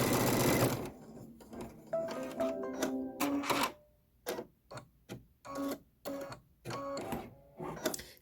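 An embroidery machine stitches a fairy light eyelet stitch on a Kimberbell Halloween bench pillow block, with rapid mechanical needle chatter in short repeated bursts and pauses, close and clear.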